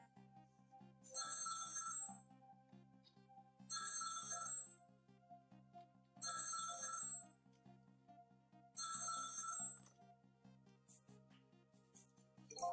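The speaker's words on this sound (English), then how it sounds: "About 2 hours before dawn, the phone rang." A telephone rings in the video game Ghost Trick: four evenly spaced bursts of bright electronic trilling, each about a second long, over a soft sustained musical background.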